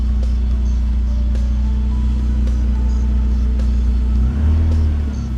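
A car engine idles loudly and steadily in a deep, even rumble, with a slight shift in its drone near the end and faint ticks above it.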